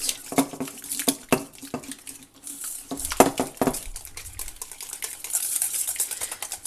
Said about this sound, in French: Je vais mélanger avec le yaourt.